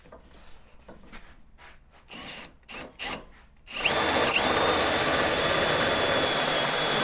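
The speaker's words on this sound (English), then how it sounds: "You'll probably see it when I'm drilling this one." A power drill bores a hole for a winch mount, first in short stuttering pulses, then a steady loud whine that runs continuously to the end.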